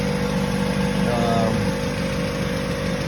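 Honda B-series engine swapped into a 1997 Civic EX, running at a steady idle: a loud, continuous mechanical rumble with an even drone that holds for about three seconds.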